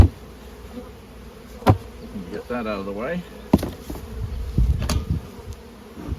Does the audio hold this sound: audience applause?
no